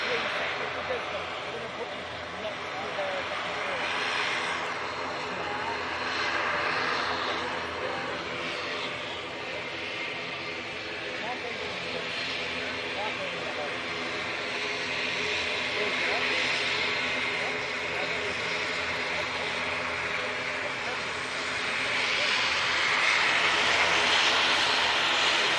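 An Aer Lingus airliner bound for Belfast lines up for departure at Manchester Airport, a steady jet engine whine and rumble at moderate distance running throughout, with people talking over it.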